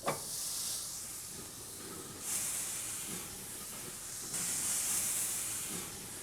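Buttered meat laid onto a hot grill over high heat, giving a loud hissing sizzle that swells in waves as pieces go down, close and without speech.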